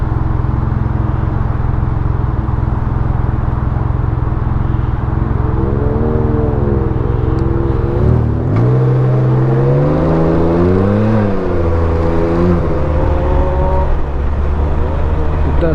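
A loud, steady engine of a Can-Am Ryker three-wheeled motorcycle with a Silber turbo exhaust drones throughout, revving up and down in pitch midway as it accelerates, close and continuous.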